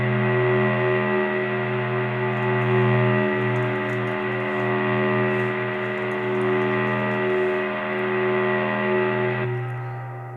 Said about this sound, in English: Yeah, this is a nice drone sound